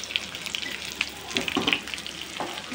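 Stuffed pointed gourds (potol filled with potato masala) fry in a pan, a steady close sizzle with scattered crackles and pops, plus a few light scraping clinks as they are turned.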